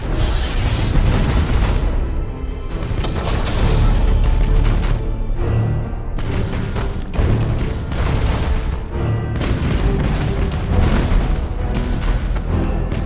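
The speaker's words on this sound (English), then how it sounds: "Fire all weapons!" Spaceship weapons firing and exploding in the space battle game Battlefleet Gothic Armada, a dense, loud barrage of booming blasts and bursts rolling continuously with short lulls between volleys.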